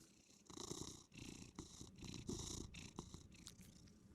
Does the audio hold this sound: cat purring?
yes